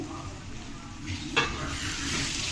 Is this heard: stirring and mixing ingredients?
yes